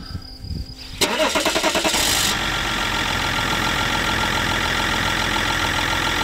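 A Range Rover L322 with an inactive air suspension fault cranks briefly, catches and settles into a steady, close idle that hums on for several seconds, with no talk over it.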